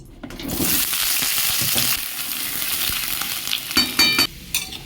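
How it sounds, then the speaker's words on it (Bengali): Potatoes fry in oil in a wok, a close, even sizzle that swells with a few louder bursts of spattering and stirring toward the end, without speech. "এবারে আমি আলুগুলো ভেজে নেব"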